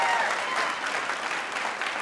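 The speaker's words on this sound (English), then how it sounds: "Give them a round of applause" Steady applause from a stand-up comedy audience, continuous clapping at an even level for the whole stretch.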